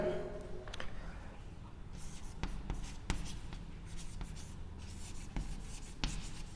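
A pen scratches across paper while someone writes out the given data for a physics problem, giving soft, close strokes and taps in an uneven rhythm.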